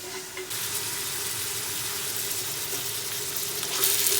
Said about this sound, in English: Just going to let the meat cook on one side, break up the lumps so it all cooks